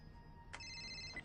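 A mobile phone ringtone chirps briefly and faintly in a quiet room, two short electronic tone bursts with a sustained bright note between them, without speech.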